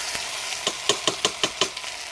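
Ginger garlic paste fries in hot oil with browned onions, giving a steady sizzle broken by a quick, regular series of about eight sharp taps or scrapes, like a spatula working the pan.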